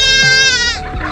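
A goat or sheep gives one close, loud, wavering bleat that lasts about a second.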